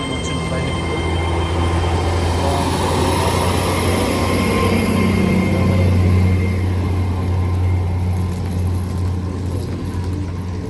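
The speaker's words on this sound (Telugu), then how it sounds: "ఇది మేము వచ్చిన ట్రైన్." A train at Hayle station in Cornwall rumbles loudly and steadily nearby, with faint wheel squeal riding over the continuous roar throughout.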